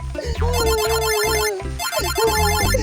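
An electronic phone ringtone plays a repeating melodic pattern over a steady electronic beat, loud and close, with no voices.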